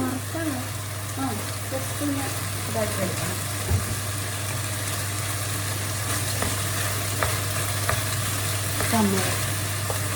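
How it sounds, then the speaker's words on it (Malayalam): Steady crackling of jeerakasala rice frying on high heat in a pan, with occasional stirring scrapes, a low constant hum and a voice now and then. "അരി നമ്മളിങ്ങനെ വറക്കുമ്പോൾ തീ നന്നായിട്ട് കൂട്ടി വെച്ചിട്ട് വറുത്തെടുക്കണേ"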